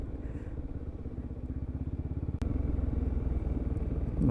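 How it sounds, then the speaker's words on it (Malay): A big motorcycle rumbles closer with a deep, pulsing engine beat, a sharp click midway, then a steadier, louder drone as it pulls up near by. "Ustaz hari ni naik motor besar."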